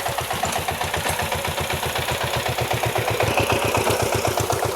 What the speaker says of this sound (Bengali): এই যে ট্র্যাক্টর, ছোটো ট্র্যাক্টর।